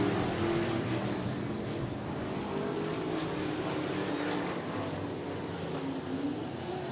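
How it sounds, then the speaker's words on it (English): A modified race car circles the dirt oval at Cottage Grove Speedway in Oregon, its engine a steady, droning roar that holds level throughout with no talk over it. "And number 11 goes around, Steven Sturtevant in the Point F Springfield Tire Modified."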